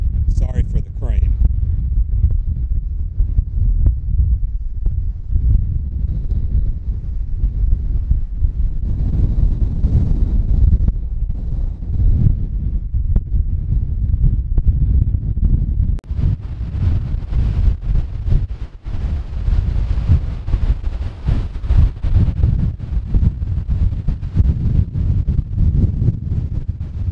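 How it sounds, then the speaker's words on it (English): Strong coastal wind at Bridport buffets the microphone in loud, continuous low roaring gusts, with a voice briefly audible beneath the noise. "So windy, it's almost blowing me over."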